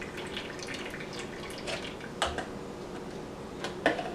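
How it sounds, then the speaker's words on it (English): Water drips from the filter tube of a Marina EZ-Care aquarium, a few sparse, faint drops falling over a low steady background hiss, with no speech. "And of course it's going to drip out."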